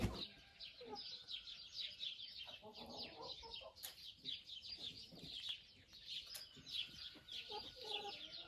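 An old laying hen clucks repeatedly at close range in a pen, with other chickens chattering softly around it.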